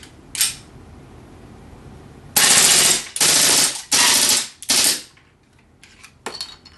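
A GSG 92 pistol firing on full auto: four loud, close bursts of rapid gunfire separated by short gaps, with single clanks and quieter handling noise before and after.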